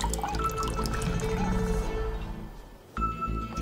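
Water poured into a woven basket at a temple in India, a steady splashing trickle that runs for a few seconds and then cuts off into a brief pause before a bright ringing tone.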